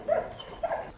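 A working police German shepherd gives two short, faint barks or yips about half a second apart, with no other sound between them.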